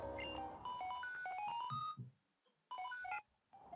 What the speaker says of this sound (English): Ring, phone call.